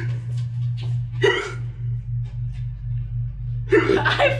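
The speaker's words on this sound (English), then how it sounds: "Oh, there's hiccups." Sharp hiccups from a person at a table conversation, a few abrupt bursts spaced over several seconds above a constant low electrical hum, with light breathy laughter-like sounds between.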